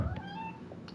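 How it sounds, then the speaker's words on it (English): A pet cat meows once, close and clear, a short rising then falling cry with a faint second call near the end. "My kitty cat is being very noisy tonight."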